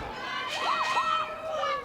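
Young British team supporters in a fencing hall chant and shout together in a high-pitched crowd, moderately distant and sustained through the moment.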